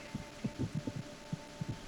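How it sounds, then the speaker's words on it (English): An irregular heartbeat sounds in the video game Metal Gear Solid 2, a faint cluster of soft, uneven low thumps over a steady electronic hum, with no voices. "Okay, I definitely hear irregular heartbeat,"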